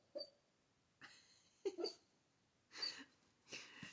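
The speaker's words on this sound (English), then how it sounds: "my dog is dreaming." A sleeping dog dreams, giving a handful of soft whimpers and wheezy breaths in separate short bursts against near silence.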